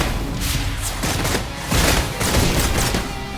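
Gunfire in the Wuthering Waves game, a series of punchy repeated shots in uneven clusters, fairly loud and close, with no voices over it.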